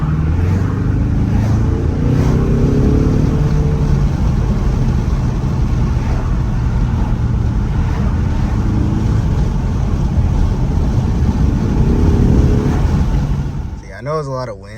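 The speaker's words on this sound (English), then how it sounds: "if you're wondering if you can like hear your turbo, hear your turbos and stuff like that from the outside or in while you're driving" A 2020 Ford Mustang EcoBoost with its stock turbo engine while driving, a loud, steady rumble of engine and road noise mixed with heavy wind buffeting that dies away near the end.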